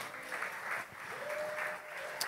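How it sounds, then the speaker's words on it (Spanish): A church congregation applauds steadily, soft and somewhat distant, with continuous clapping throughout and a faint tone in the background. "Cuántos lo creen y le dan un fuerte aplauso a Jesús"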